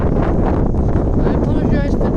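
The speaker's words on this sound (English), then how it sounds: "I apologise for the noise, it's very windy." Wind buffets a microphone at windy castle ruins, producing a steady, loud rumbling roar throughout, with a faint voice partly buried under the noise.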